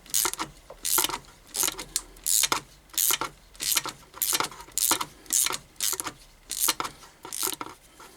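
Repeated metallic ratcheting clicks from tightening a gearbox bolt to 20 Nm with a torque wrench during a K1 gearbox oil change, about a dozen short bursts in steady rhythm, close and fairly loud.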